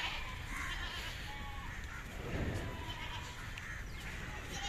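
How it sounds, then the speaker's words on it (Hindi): Goats and kids bleat at the busy Deonar goat market in Mumbai, with brief wavering cries rising over a constant dense crowd and market din. "बकरी है दोस्तों, और ये सब बकरे हैं"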